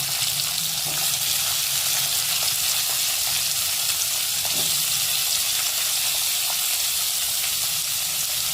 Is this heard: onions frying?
yes